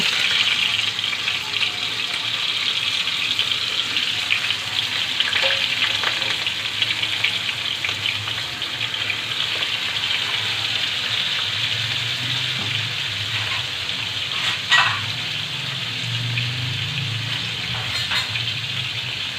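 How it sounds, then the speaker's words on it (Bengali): Rohu fish pieces rubbed with turmeric, salt and chili powder fry in hot oil with a steady, loud hiss and crackle close by, and no talking is heard. "তার জন্য আমি মাছটা প্রথমে বেজে নেব"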